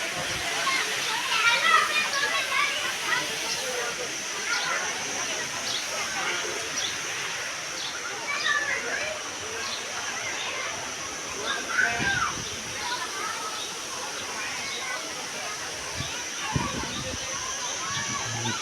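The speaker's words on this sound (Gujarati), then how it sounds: "આ પાણી ડેમમાંથી આવી રહ્યું છે ડેમમાંથી પાણી અહીંયા આવે છે" Water pours out from a dam at Khodiyar Dam near Dhari, a steady broad rushing wash with occasional louder splashes, moderately near and continuous throughout, with faint voices mixed in.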